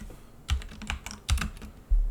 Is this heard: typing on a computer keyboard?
yes